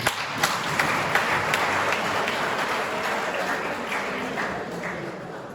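A seated audience at a Mother Language Day talk applauds together, a full, steady roll of clapping that holds loud and then eases slightly toward the end.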